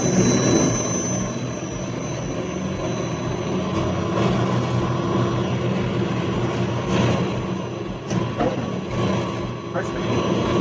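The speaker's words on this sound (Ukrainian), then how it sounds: "Ми вибираємо старт, нажимаємо швидкість ножа." An STvega Belt Cutter H200 industrial vegetable cutting machine runs with a blade and conveyor belt, giving a steady mechanical hum and whir with faint clatter near the end.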